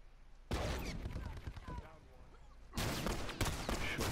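Shotgun fire in the online multiplayer mode of the video game The Last of Us: loud, dense bursts of blasts in two close bouts, separated by a short lull.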